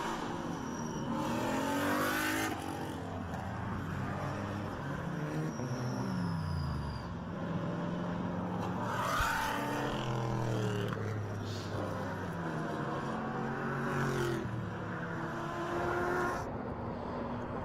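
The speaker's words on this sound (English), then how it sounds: "the installation laps are now being completed at Canadian Tire Motorsport Park" GT race cars run installation laps at Canadian Tire Motorsport Park during a 2017 Pirelli World Challenge GTS round, with engines roaring and sweeping past one after another, pitches rising and falling as they pass, over a steady loud track noise.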